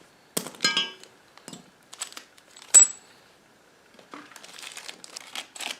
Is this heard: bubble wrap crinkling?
yes